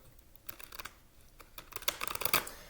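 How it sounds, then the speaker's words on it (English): Tarot cards are shuffled by hand in a quiet room, a run of quick, crisp papery riffles and taps that grow louder and denser toward the end. "Shuffle this one more time."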